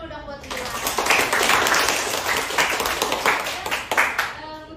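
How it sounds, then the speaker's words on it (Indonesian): A classroom audience claps for a student at a school guidance session. The applause is close and lively, with dense rapid hand claps that swell and fade slightly across several seconds. "Tepuk tangan dulu dong buat Lila."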